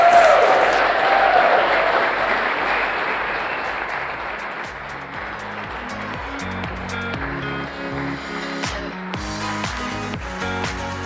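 Applause from the audience at an awards ceremony as young recipients come up for their certificates, with steady, dense clapping while music with a regular beat rises and takes over in the second half.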